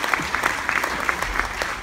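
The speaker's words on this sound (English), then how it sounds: "please give yourself a big, big round of applause because you all deserve it" A short burst of audience applause at an event aboard a cruise ship, with many hands clapping at a moderate level from a little distance.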